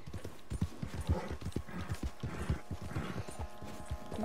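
Horse hooves clip-clop in a video game during a legendary deer hunt, a steady walking rhythm of soft close thuds over a faint ambient bed, with no talk.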